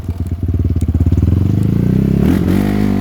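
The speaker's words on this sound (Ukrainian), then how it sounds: "Це друга передача, щоб ви розуміли, типу, такі пробуксовки, типу даєш газу і просто буксує." Kovi Lite 300 off-road motorcycle revving hard in second gear as the rear wheel spins and loses grip, a loud close engine rising quickly into a fast rhythmic pulsing roar with scrape and clatter.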